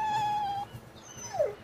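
A dog in the video game Tales of Berseria gives a long high whine followed by a short falling yelp, alone and fairly close, over faint game background sound.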